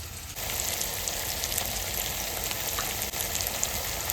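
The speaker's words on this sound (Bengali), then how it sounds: "এবার একটু লবণ দিয়ে দেবো, পেঁয়াজটা তাড়াতাড়ি ভাজা হয়ে যাবে।" Onions frying in oil with salt for a mutton dish, a steady close sizzle running throughout with a crackling hiss and no talk.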